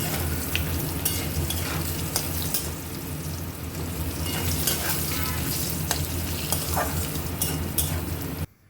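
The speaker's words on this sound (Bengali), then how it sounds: "আলুটা একটু লাল লাল করে ভাজা হয়ে গেলে" Cut potatoes fry in hot oil, a loud, dense sizzle that runs steadily close up with occasional stirring clicks, then stops abruptly near the end.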